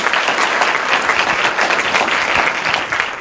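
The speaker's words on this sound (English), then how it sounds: "you should give a round of applause for him." Loud, dense applause from a crowd at a Turning Point USA rally, many people clapping together in a continuous, even roar with no talking over it.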